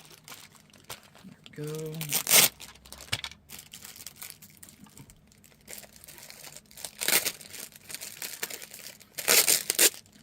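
Packing tape from a Beyblade box is crumpled and crinkled in close bursts, loud rustling handfuls separated by pauses, with a short spoken remark partway through.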